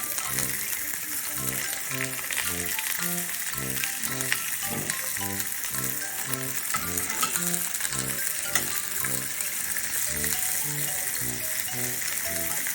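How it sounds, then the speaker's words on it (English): Oxtail is stirred in a pot for oxtail soup, making a steady, close run of scraping clinks and rattles over a soft sizzle, with no talk. "Now we're going to be stirring the oxtail so we can help my aunt make it into oxtail soup."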